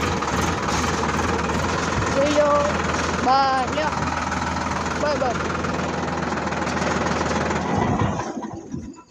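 A tractor engine idles at a paddy field with a steady low chugging rumble, close by, while someone speaks briefly over it before it winds down.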